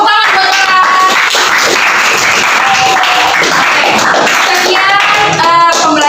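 Applause from a class of participants in a teacher training practice lesson, a steady wash of clapping hands lasting several seconds with faint voices mixed in.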